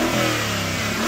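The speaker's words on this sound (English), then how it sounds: "So let's see if this car sounds better. I'm going to rev it up." An older Mercedes-AMG G63 engine revs up loudly and close by, climbing steadily in pitch through one short, continuous throttle blip.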